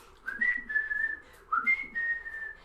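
Two clear whistled notes, each holding steady, with a short gap between them. Close and fairly quiet, with no other sound behind them.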